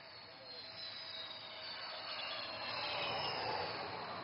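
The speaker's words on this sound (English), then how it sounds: "this twin-engine fighter demands nothing but absolute precision while landing on this highway" A twin-engine fighter jet weighing over 38 tons comes in to land on an Assam highway, a distant broadband jet roar that slowly swells louder with no voices over it.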